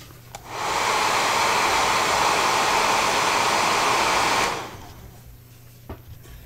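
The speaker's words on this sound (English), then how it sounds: "I'm going to get that blow dryer out again" A handheld blow dryer used on a painted D&D miniature runs as a loud, steady whoosh for about four seconds, starting and cutting off cleanly, with quiet room sound before and after and no talking.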